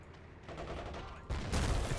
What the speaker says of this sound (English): It's so cool to hear the Bren gunners and machine gunners on the walls engage the German infantry right now